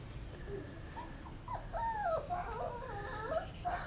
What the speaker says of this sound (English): lovely puppies.